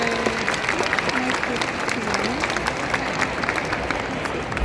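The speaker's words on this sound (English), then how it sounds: "Can we give Clara an amazing round of applause for that awesome mission?" A crowd applauds at an indoor sea lion show, a dense, steady patter of many hands with cheering and talking voices woven through it.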